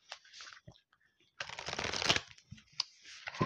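Oracle cards being shuffled, a crisp riffling and flicking of a deck in bursts, close and fairly quiet, with short pauses and lighter card taps between.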